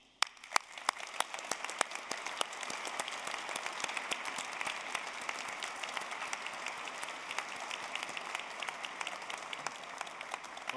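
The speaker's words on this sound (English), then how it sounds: "We are going to applaud and thank the friends and family in the audience." Graduates at a university graduation ceremony applaud friends and family. A few sharp scattered claps build quickly into continuous, fairly faint crowd applause that carries on evenly to the end.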